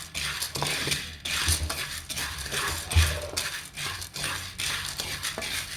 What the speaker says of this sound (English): So I just have to keep stirring